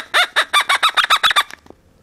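A toy chicken squawks in a rapid run of about ten loud, honking clucks that trail off into a few faint sputters, close up and alone.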